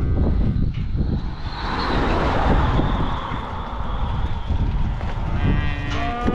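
Cattle lowing in a noisy outdoor setting, with broadband rumble like wind or a distant engine throughout and a few moos rising near the end.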